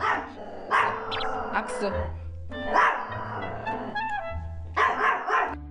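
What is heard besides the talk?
dog barking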